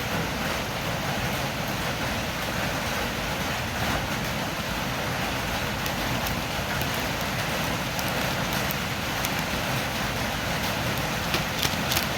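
Steady morning rain falls without a break, a dense, even hiss with soft patter underneath, holding at the same level throughout with no voices.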